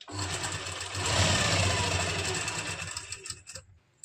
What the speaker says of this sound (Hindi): इसमें हम एक बड़े टांके की सिलाई लगा लेंगे